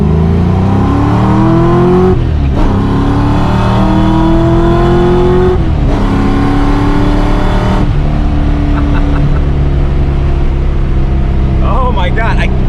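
A 347-cubic-inch supercharged Foxbody Mustang roars hard with its exhaust partially open, pulling through several rising gears with sharp shift breaks, loud and close from inside the car.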